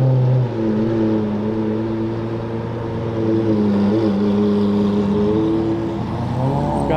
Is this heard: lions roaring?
no